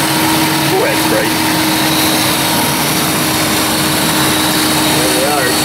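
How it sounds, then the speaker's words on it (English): Radiator cooling fans on a Chrysler Town & Country minivan with a cooling fan fault, spinning as a steady, loud whirring drone with a constant tone throughout, while people talk nearby. "Alright, so both our fans are spinning."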